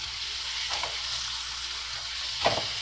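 Steak sizzling in a frying pan with onions cooking alongside, a soft continuous hiss with two brief louder spurts and a scrape as the meat is laid back down.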